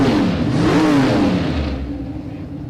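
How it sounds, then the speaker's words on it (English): Big block engine of a Camaro top sportsman drag car revving, a deep throaty note rising and falling in pitch before easing off and fading as it settles. "Top sportsman type of vehicle. Sounds like big block."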